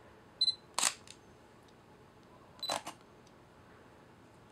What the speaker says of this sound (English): let's hear the differences in the shutter sounds